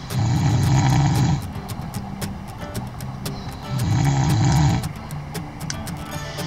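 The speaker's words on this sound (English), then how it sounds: "Yes, I snored." Loud, deep snoring close by, two long rasping inhales a few seconds apart, with a steady rumble and faint clicks in between.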